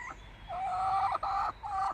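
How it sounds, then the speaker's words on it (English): Chickens cluck softly in a garden, with a few repeated calls in short bursts that are fairly faint and distant, and no voices. "chickens!"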